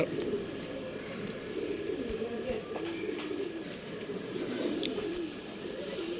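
Pigeons coo in low, rolling murmurs that run steadily throughout, close and moderately loud, with a few faint chirps and small knocks mixed in.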